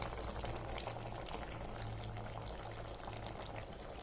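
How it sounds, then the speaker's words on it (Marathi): Beetroot boiling in a pot of water, a continuous close bubbling and rolling simmer with no pauses and no talking. "बीट आता उकळायला लागलेत"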